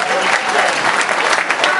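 An audience at a concert claps for the opening act, a full, continuous round of applause from a crowd that fills the room.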